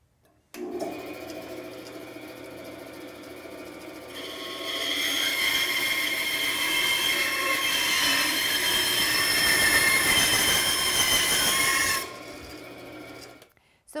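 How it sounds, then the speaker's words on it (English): A bandsaw cuts through wood for book-matched panels. The motor hums, then a louder, steady rasping whine rises as the blade feeds through the board for several seconds before dropping back to idle and stopping. "Then you can go ahead and cut your wood."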